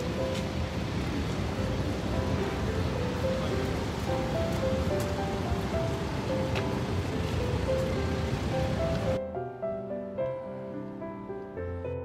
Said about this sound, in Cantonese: 旁邊咧係呢個 North Sea 咯，咁所以都好大風，好大浪。